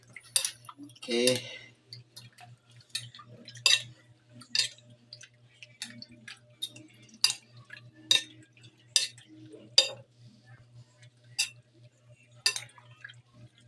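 Bangus kinilaw (milkfish ceviche) being mixed in a bowl: scattered clinks and wet stirring taps in an irregular rhythm, fairly close, with a soft voice and a steady background hum.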